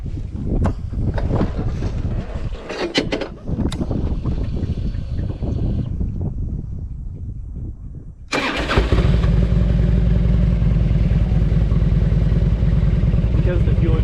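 A fuel-injected 2004 Harley-Davidson Road King is ridden outdoors. Heavy wind buffeting roars across the microphone, then the motorcycle's engine cuts in, a loud, steady, low rumble that continues to the end.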